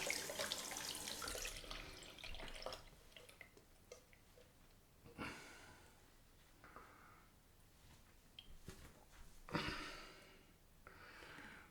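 Tap water runs into a sink to rinse a straight razor, with a loud gush at the start and later bursts of splashing and flowing water, close by and without talk.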